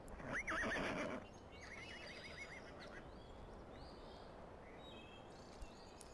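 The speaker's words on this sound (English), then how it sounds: "pay attention to the horses now" Horses at stables: one neighs loudly once near the start, followed by softer distant whinnies and faint bird calls over a steady outdoor hiss.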